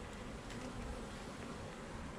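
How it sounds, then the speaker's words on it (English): Honey bees buzzing around an open hive frame during an inspection, a steady, dense hum of many insects close by, quiet and continuous with no talk. "The bees are pretty docile"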